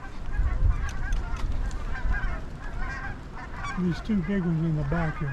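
Geese honk repeatedly while landing among the decoys on a late season hunt, overlapping calls near and far, with hunters talking quietly over them.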